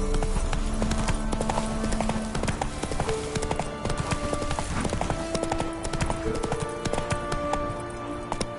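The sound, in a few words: horse galloping hooves in The Witcher 3 video game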